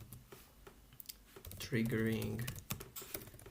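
Typing on a computer keyboard during a Python Matplotlib coding tutorial, rapid close key clicks running under a voice.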